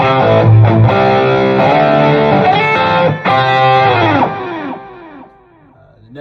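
A lead-channel distorted electric guitar tone from an Axe-Fx III processor, playing loud sustained notes and bends that ring out and decay with reverb, with no other sound.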